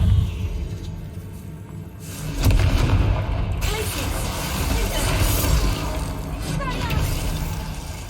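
Confringo fire spell explosions in the video game Hogwarts Legacy, heavy booming blasts and rumbling impacts layered over continuous game noise, with a person talking over them.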